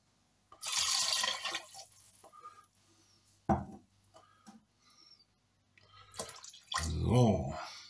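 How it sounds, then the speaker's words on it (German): Water, one litre, splashes and pours into a soup pot for a tomato bean soup, a strong rushing stream at first, then a brief pause, a clunk and a second gushing pour at the end. "Tomaten-Bohnensuppe kommt 1 Liter Wasser rein."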